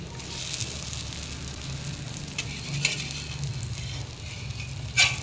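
An omelette of boiled potato and egg fries in a pan with a steady, close sizzle and crackle, broken by a few soft scrapes and pops and no voices.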